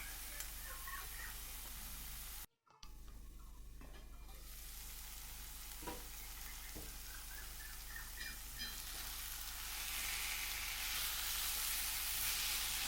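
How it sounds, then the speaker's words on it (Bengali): Leafy greens fry in a pan with a soft, continuous hiss while being stirred, marked by scattered light taps and small crackles. "এবার একবার ভালো করে নাড়াচাড়া করে দেব"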